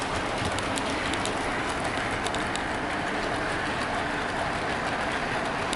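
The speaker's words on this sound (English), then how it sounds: "But the Class 31 is running smoothly." A Class 31 model locomotive runs along a layout track, producing a steady, dense rushing whir with faint rhythmic ticks, continuous and fairly close throughout.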